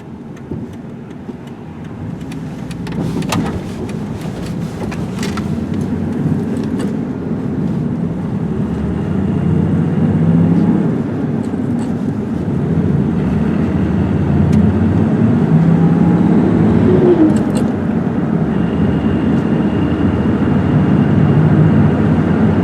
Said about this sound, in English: let you guys listen to how the car runs and how it rides.